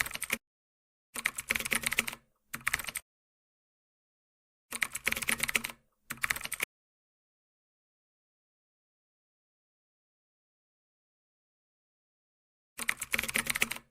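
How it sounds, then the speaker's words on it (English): Computer keyboard keys are typed in quick close bursts of rapid clicks, separated by long stretches of dead silence, with one final burst at the end. "type in a file name."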